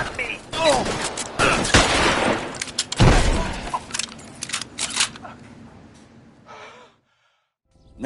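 A burst of gunfire from the LA Noire video game, several sharp shots in quick succession with gasps and game voices mixed in, fading to silence near the end.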